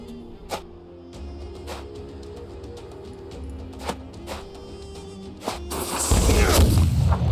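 Handgun gunfire from gunners in the video game Battle Brothers: scattered sharp shots and booms at irregular intervals over a low rumbling background, then a loud, dense crackling burst near the end.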